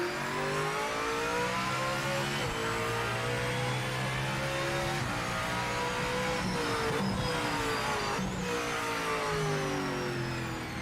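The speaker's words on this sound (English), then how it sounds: "I'm hearing the sound. I'm sorry, I hear a turbo." Race car engine from the Project Motor Racing 2.0 driving game revving hard through repeated upshifts, a turbo-like whine sweeping up and dropping with each gear change, loud, sustained and close.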